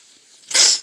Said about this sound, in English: sorry for sneezing.